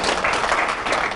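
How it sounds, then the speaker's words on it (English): A classroom of teachers at a school leadership session claps together, a dense, steady burst of applause from a group, moderately loud and close. "Give yourselves a clap."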